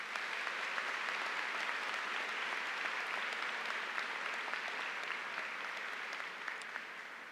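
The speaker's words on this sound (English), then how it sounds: "Big round of applause for them," An audience at the Havre de Grace High School commencement applauds for school officials, a dense, even wash of clapping that holds for about seven seconds before easing slightly at the end.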